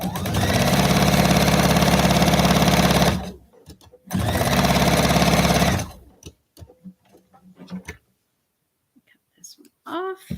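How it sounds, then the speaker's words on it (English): A sewing machine stitches a quilt fabric strip at high speed, whirring loud and steady for about three seconds, pausing briefly, then running again before stopping; soft handling noises follow and quiet talk appears near the end. "sew nice and fast down that strip"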